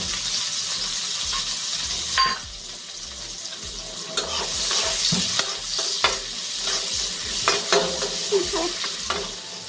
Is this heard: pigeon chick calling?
no